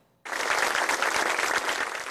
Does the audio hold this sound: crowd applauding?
yes